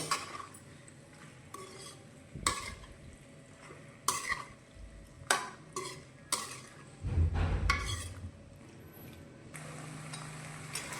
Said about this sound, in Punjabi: ਸੋਇਆ ਜਿਹੜਾ ਆਪਣਾ ਕੌਰਨਫਲਾਵਰ ਹੈ ਉਹ ਆਪਾਂ ਪਾ ਦੇਣੇ ਵਿੱਚ ਤੇ ਚੰਗੀ ਤਰ੍ਹਾਂ ਮਿਕਸ ਕਰ ਦਿੰਨੇ ਆ